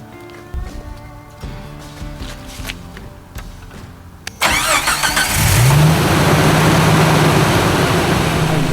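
A Jeep engine cranks and catches after a few seconds of clicks and handling, then settles into a loud, steady idle close by, with a rising whine appearing soon after startup.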